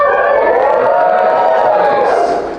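A comedy club audience applauds and cheers in a continuous, dense roar of clapping and crowd voices that holds steady, then eases slightly near the end.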